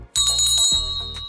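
A bright chiming notification bell rings twice in quick succession, clear and close, with a shimmering metallic ring over a low electronic hum.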